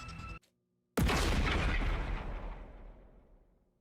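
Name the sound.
explosion in the video game The Hundred Line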